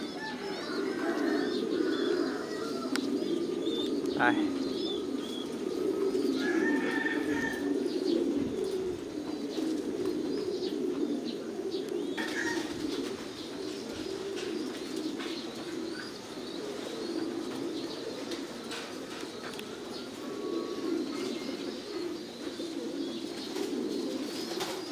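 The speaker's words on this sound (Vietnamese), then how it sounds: "Đây, những cái con chim bồ câu đang sinh trưởng và phát triển ở trong những chiếc lồng như thế này." Thai Titan pigeons coo steadily in their farm cages, a dense, continuous chorus of low cooing with occasional chirps and wing flutters, close and loud throughout.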